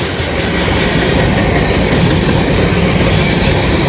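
A train passes close and loud on a railway, a continuous heavy roar with rhythmic clickety-clack from the wheels and no voices.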